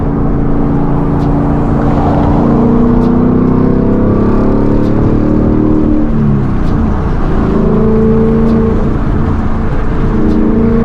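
A 2019 Ford Mustang GT accelerating hard while merging onto Interstate 95, its loud engine note climbing in pitch, dropping at a gear change, then climbing again over steady road and wind roar from inside the car.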